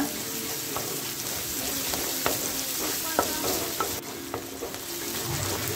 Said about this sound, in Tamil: இந்த ஆனியனை ரொம்ப டீப்பாக ஃப்ரை பண்ண வேணாம் ஒரு அரை வேக்காடு இருந்தால் போதும்